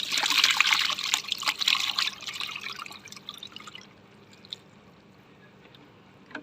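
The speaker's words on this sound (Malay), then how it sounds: "Cik Ta akan tuang lah." Banana peel soaking water poured through a strainer, a loud splashing trickle at first that thins into faint drips and dribbles, with no talking.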